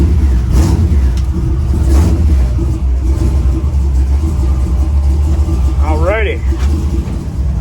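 A 1963 Chevy C10 rat rod with an LS engine swap runs on a cold start, a loud, close engine drone that swells and revs, with a brief spoken word over it.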